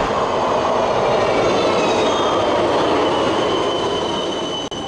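A Budapest tram at a tram stop rolls through with a steady rumbling roar and high, sustained wheel squeal layered above it, loud and close for the whole stretch.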